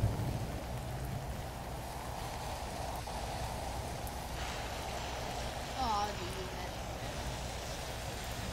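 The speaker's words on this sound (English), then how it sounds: "See, the rain is starting to seep through." Rain falling in the Roblox game Survive a Natural Disaster, a steady hissing wash of rainfall that runs throughout, with a brief rising electronic tone near the end.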